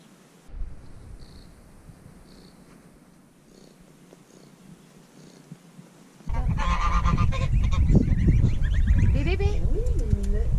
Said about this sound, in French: Des oies.